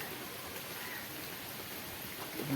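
Steady outdoor rain falling at a village fishing spot, an even continuous hiss of drops with no clear breaks, moderately loud and up close.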